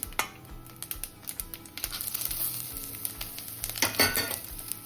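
Dried red chillies, green chillies and curry leaves crackle in hot oil for a tempering, giving a steady close sizzle with sharp popping spatters throughout and a louder burst of crackling near the end.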